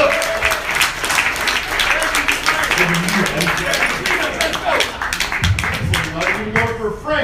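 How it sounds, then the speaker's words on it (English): An audience at a comedy show claps in a loud, continuous burst of applause while a host's voice talks over it. "Come on, clap it up."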